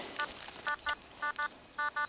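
Metal detector on a hillside giving a strong signal: short, clear electronic beeps in spaced pairs, repeating rhythmically over a faint background hiss.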